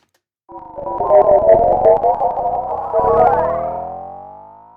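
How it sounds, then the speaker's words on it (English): Distortion effect in Bitwig's FX Grid on a granular patch: a loud, gritty, harmonically rich tone that wavers and shifts pitch, swelling again midway and then fading slowly, with no voices. "Let's try distortion."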